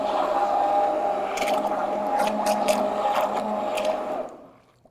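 Vitamix immersion blender whirring through cashew cream of mushroom soup in a pot, a steady motor hum with occasional scraping clicks as it moves around the bottom, then winding down to silence.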